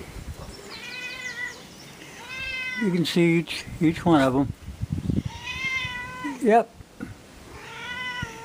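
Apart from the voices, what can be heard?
cat meowing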